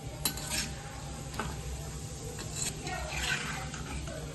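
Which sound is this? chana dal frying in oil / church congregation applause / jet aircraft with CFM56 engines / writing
chana dal frying in oil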